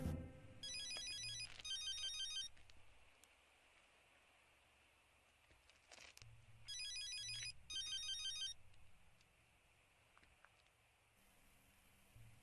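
Telephone rings in two electronic bursts of rapid warbling trills, each burst a pair of quick rings separated by quiet pauses, alone without talking.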